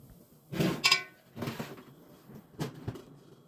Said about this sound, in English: here I'm just taking the Brussels sprouts out to stir them so they will stay evenly cooked, and mix all the oils around them